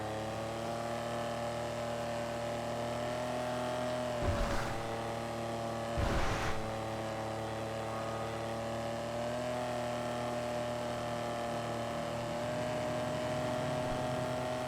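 A car races in GTA, with a steady engine drone and held harmonic tones throughout, broken by two brief thuds or bumps and otherwise smooth and continuous.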